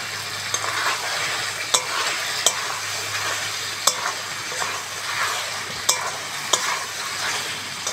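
Ridge gourd being stir-fried in spice paste in a pan for a Bengali fish curry, giving a steady sizzle with regular clinks of a spatula scraping and stirring, close and continuous with no talk.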